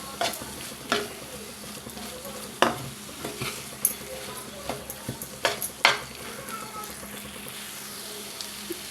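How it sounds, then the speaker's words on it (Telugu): Fried capsicum stirred into a simmering gravy in a cooking pan, giving a low steady sizzle with scattered scrapes and clinks of a spoon against the pan, close by and fairly quiet. "అలాగే ఫ్రై చేసి పెట్టుకున్న క్యాప్సికం వేసేసుకోవాలి ఒకసారి బాగా కలుపుకోవాలి"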